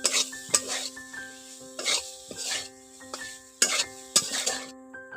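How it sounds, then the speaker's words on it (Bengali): Spices and vegetables for shukto, with a little turmeric, being stir-fried in a pan, a soft sizzle under repeated scrapes and clinks of a spatula against the metal, coming in irregular bursts up close. "এখন একটু মশলাগুলো এবং সবজিগুলো কষে নিয়েছি"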